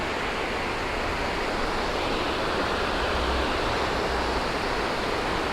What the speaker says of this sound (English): All this water running around